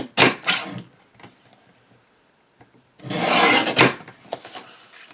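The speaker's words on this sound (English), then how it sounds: "While I have my trimmer out, I'm going to cut the sentiment out from the middle of the card." A paper trimmer slices through a greeting card in two rasping strokes, a short one near the start and a longer, louder pass a few seconds later, with quiet handling in between.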